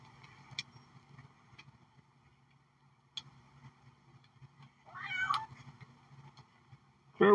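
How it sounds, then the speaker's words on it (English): A house cat meows a few short times, moderately near, over quiet indoor room noise, with a sharper bump near the end. "Don't knock the phone, you cat."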